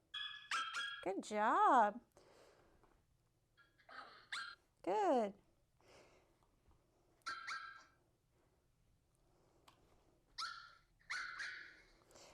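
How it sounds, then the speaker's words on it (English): Recorded mix of different dogs barking, including a small yappy dog, played from a phone as puppy calm-training: several short bursts of barks and whines spaced across the span, with a trainer's quiet praise in between. "So this is like a whole mix of different barks."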